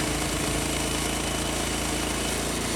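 Steady, loud power saw cutting wooden lap siding, a continuous dense whine and rumble holding level for nearly three seconds before stopping abruptly.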